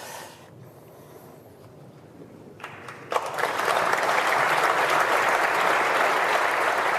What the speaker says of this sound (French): a osé applaudir ce discours plein d'émotions de José González, le doyen de l'Assemblée nationale